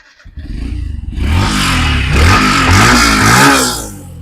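Yamaha FZ S v3 motorcycle with about 19,000 km is started and revved, a loud close engine that catches after a brief crank, then idles and climbs through several throttle blips before settling.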